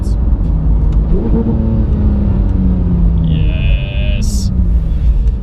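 Porsche 991 GT3 with a Sharkwerks exhaust revving loudly nearby, a continuous engine roar with rising and falling pitch sweeps and a brief sharp burst near the end.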